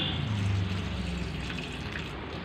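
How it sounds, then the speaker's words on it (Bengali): A child pours water onto a tulsi plant, a continuous rushing splash that is strongest at first and then eases slightly, heard close up without speech. "তিতলি আজকে তুলসী গাছে জল দিচ্ছে।"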